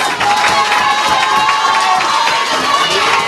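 Crowd at the opening ceremony of a youth clubs headquarters giving loud, sustained applause with cheering and shouting, a dense continuous wash of clapping and voices.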